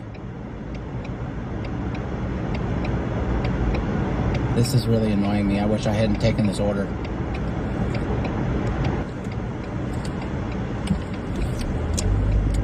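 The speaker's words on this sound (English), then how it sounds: "Now I gotta wait for this traffic." Road traffic rumbles around a delivery car waiting in traffic, a steady low engine and tire drone with passing vehicles and a brief hiss, under a man's annoyed speech.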